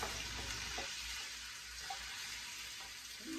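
Seafood frying in a pan with onion, garlic and turmeric, a steady close sizzle with faint stirring scrapes throughout and no talk.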